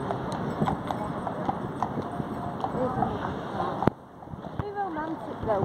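Horse hooves clip-clop steadily on a street in Blackpool, a regular rhythm running under a crowd's chatter and voices, with a sharp knock near the end as the busy street noise drops briefly.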